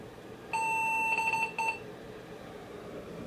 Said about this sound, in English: you heard the beep